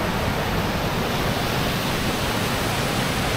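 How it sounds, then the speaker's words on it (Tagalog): A waterfall pours over rocky ground near Cat Cat Village in Sapa, Vietnam, producing a steady, loud, broadband rush that runs unbroken throughout. "Ganda ng waterfalls dito pero kasi masyadong mabato kaya hindi siguro pwedeng maligo-ligo."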